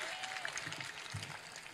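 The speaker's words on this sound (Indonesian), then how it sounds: "tepuk tangan." Audience applause fills a gathering hall at a governor's public event, a dense, steady clatter of many hands clapping at moderate distance throughout.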